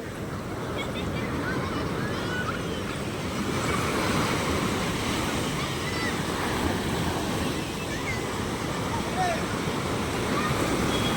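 Continuous sea surf washes onto Velankanni beach at sunrise, a steady, loud roar of breaking waves with a low rumble of wind, while distant voices of people at the shore murmur underneath.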